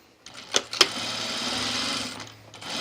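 A sewing machine edge stitches a pressed seam allowance toward a side seam pocket on a dress, running in a steady close whir for about two seconds after a couple of sharp clicks.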